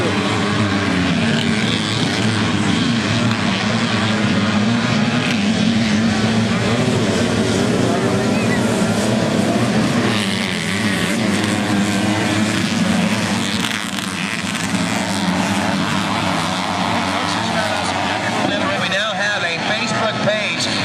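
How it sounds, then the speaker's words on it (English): Mini quad ATV engines of the 13-to-15-year-old Super Mini class race at Sunset Ridge during the ATVA nationals, a loud continuous buzzing drone that swells and fades, with announcers talking over it throughout. "Right now, though, we've got our Super Mini racing continuing here, the 13 to 15-year-old class."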